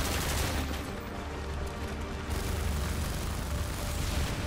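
Minigun fire in the Modern Warfare 2 Spec Ops mission 'American Roads', a continuous dense roar of rapid gunfire with booming low end that holds steady throughout, with no talk over it.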